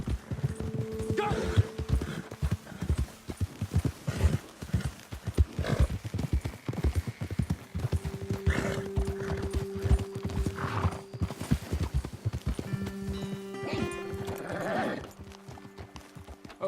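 Hooves clip-clop in rapid, continuous galloping rhythm from several horses in Red Dead Redemption 2, loud and close, with a few neighs and whinnies breaking through and faint voices talking underneath.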